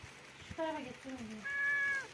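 A cat meows twice close by as rain begins, a short rising cry followed by a longer, higher plaintive meow, fairly soft.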